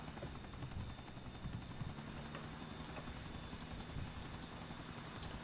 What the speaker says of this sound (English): I just saw your helicopter.